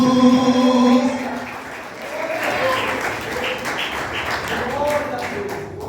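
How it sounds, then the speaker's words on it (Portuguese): An audience at a church seminar claps together in sustained applause after a voice finishes speaking, with a held musical tone in the background. "Se você quer, recebe, aplauda bem forte"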